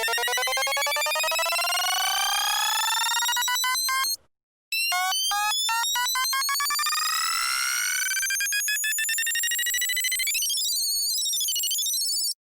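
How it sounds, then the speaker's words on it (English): Bright synth tone under square-wave LFO modulation, chopping rapidly between steps in a fast on-off pattern while its pitch keeps rising, stopping briefly midway, then rising again and warbling near the end; loud and alone. "instead of selecting a sine wave for this LFO, you can select a square wave, and it'll sound something like this."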